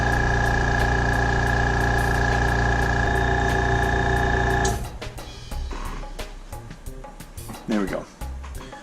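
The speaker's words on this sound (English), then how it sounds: "So now the compressor is just going to sit there and fill this little tank." An airbrush compressor fills its small 3-liter tank with a steady, close mechanical hum for about five seconds, then cuts off, leaving quieter room sound and a voice.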